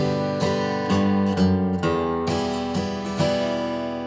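An acoustic guitar plays a steady strumming pattern, chord strums alternating with single picked bass notes, bright and close, with no voices.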